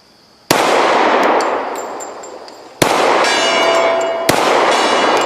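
Three sharp metallic impacts of bullets hitting a steel gong target, each followed by a long ringing decay, spaced a couple of seconds apart with no talking.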